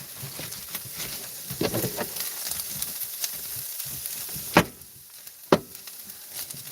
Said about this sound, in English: get some butter in there. Let's get some butter in, so we're going to fry up some